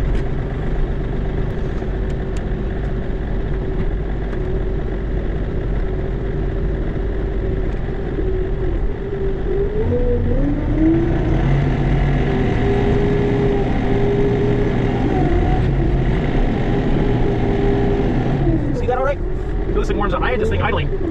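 A tractor fitted with studded forestry chains idling for snow plowing, a steady low diesel rumble that shifts pitch midway, with a voice talking over it.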